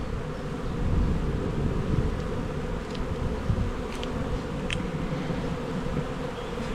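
Honey bees drone steadily through a hive inspection as frames of brood are handled, a dense low buzz filling the background with a few faint higher clicks and no talking.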